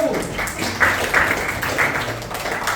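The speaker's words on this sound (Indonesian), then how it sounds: "tepuk tangan untuk kelompok 1" Scattered applause for the first group after their presentation at a teachers' classroom-practice session, a few loud claps standing out over a low, steady room murmur.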